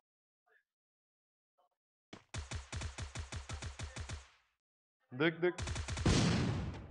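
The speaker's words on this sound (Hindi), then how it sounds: "बॉट पीछे से फायर कर रहा है" A burst of rapid automatic gunfire from a bot in the Free Fire video game, about a dozen sharp shots in quick rhythm, then a second heavier volley after a short pause, loud and close, with a brief spoken word.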